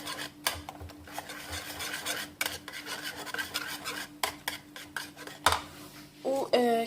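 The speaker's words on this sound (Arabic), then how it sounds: "وكنخلطوهم مزيان حتى كيدخلوا في بعضياتهم" Ingredients for homemade savory pastries are stirred and mixed in a bowl, a utensil scraping and clinking against the sides in quick, uneven strokes with occasional sharper knocks, close by and with no talking.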